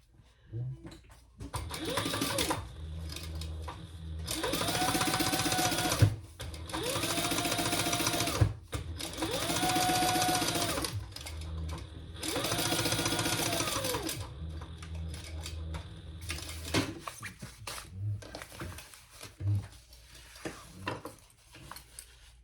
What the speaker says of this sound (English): And I'm going to turn that over and sew that flat.